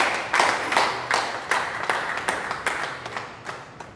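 A congregation at a fasting and prayer service claps in rhythmic bursts of applause, moderately loud at first and fading slightly, with no talking over it.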